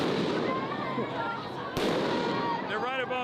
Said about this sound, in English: they're deploying tear gas and flashbang grenades above our heads.